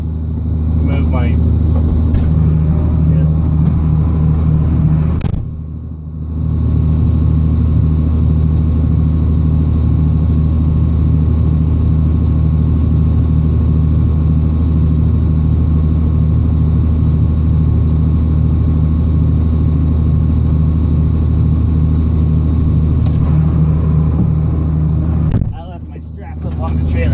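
A tractor engine hauling hay into a tight feedlot idles and chugs with a loud, steady low drone throughout, broken by two brief dips in level, with no speech over it.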